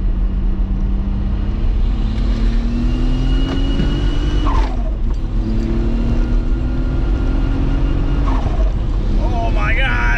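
A turbocharged VR6 wagon accelerates hard in second gear, its droning pitch climbing steadily before a brief shift and another rising surge, loud and close with constant road noise.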